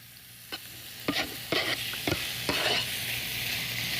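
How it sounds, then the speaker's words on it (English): Pork hitting a hot oiled skillet sizzles in several bursts, each louder crackle flaring as more meat goes in, then settling into a steady frying hiss with stirring clatter. "You wanna hear that sizzle."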